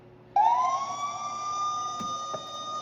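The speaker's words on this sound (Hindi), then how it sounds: "इसमें हमने पहले ही एम्बुलेंस वाला दिया था, फायर सिस्टम कर दिया ऑन" A WiFi security camera's alarm, set to an ambulance or fire tone, suddenly blares a loud, steady electronic siren wail that holds for over two seconds, with a couple of faint clicks underneath.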